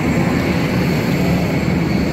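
Broad steady jet engine roar from an airplane at a Berlin airport on a cloudy day, a continuous loud wash of noise with no pauses or voices.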